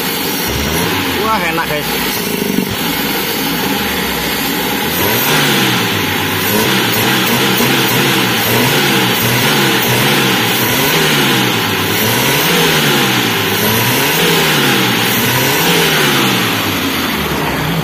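A Mitsubishi Colt SS engine revs hard and holds at high RPM, its droning tone rising and falling in repeated surges for the whole stretch, loud and close, with someone talking briefly over it near the start.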